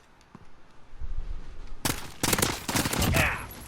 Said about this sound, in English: I shot him twice in the head for the 1 burst